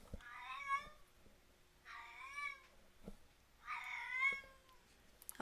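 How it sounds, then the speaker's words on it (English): A pet cat lets out three drawn-out, harsh meows, each lasting about a second and evenly spaced, close by and fairly loud over a quiet room with a few faint clicks between them. "apologies if you hear my cat being absolutely ugly. He does this ugly meow."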